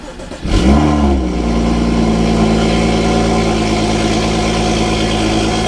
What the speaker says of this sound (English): What you guys want to do is turn on your car.